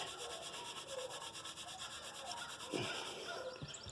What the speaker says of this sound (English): just keep going back and forth, washing that lighter stuff off